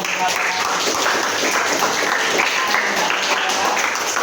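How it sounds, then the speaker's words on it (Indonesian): Students and teachers applaud at the end of a group presentation on Islamic studies in a university teacher-training class; dense, continuous clapping fills the room with voices talking over it. "kasih tepuk tangan"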